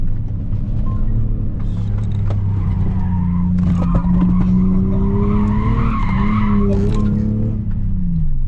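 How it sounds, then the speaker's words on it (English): A Lexus IS300 Sportcross on coilovers squeals its tires through a hard turn, a loud rising screech over steady engine and road noise that swells and wavers for several seconds before easing off. "But taking any turn hard in the Lexus IS300 Sportcross with coilovers,"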